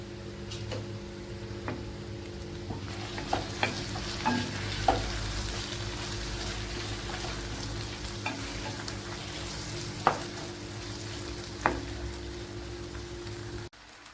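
Chopped tomato and curry leaves frying in oil for a bitter gourd curry, a steady close sizzle with occasional spatula taps and scrapes, no voices.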